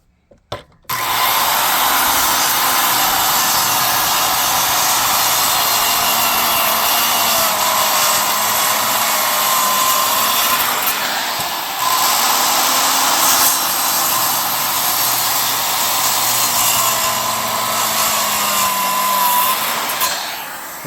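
A worm drive circular saw cutting through wood, a loud continuous whining buzz starting after a brief clunk, holding steady with slight pitch dips as the blade works the board, then trailing off at the end.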